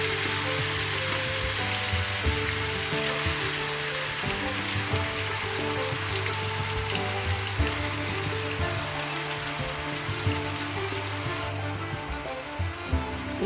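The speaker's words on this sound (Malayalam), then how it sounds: "നമ്മുടെ എണ്ണയൊക്കെ ചൂടായിട്ടുണ്ടെങ്കിൽ നമുക്ക് ഈ ചൂടായ എണ്ണയിലോട്ട് നമ്മുടെ ബീഫ് ഇട്ട് കൊടുക്കാം" Beef pieces sizzling in hot oil in a pan, a steady dense frying crackle throughout with a low hum underneath, no voices.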